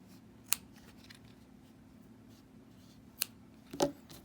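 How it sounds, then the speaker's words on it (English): Scissors snip off loose yarn ends from a pom-pom, three crisp close cuts spaced a few seconds apart over a quiet background, the last one a double snip. "then I just cut off these ends right away."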